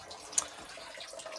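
Water draining from an old electric water heater tank through a hose, a steady moderate splashing trickle with one brief sharp drip or splash.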